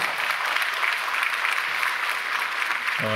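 A church congregation gives a steady, full round of applause to welcome a community-ministry panel coming forward, dense and continuous from start to end.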